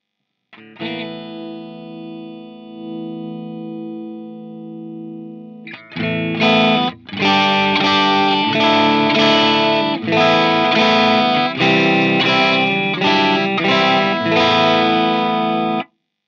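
Electric guitar through a KSR Amps Eros boost pedal with gain lowered and level raised into a tube amp, a sustained chord ringing out, then loud strummed chords with slight breakup, alone.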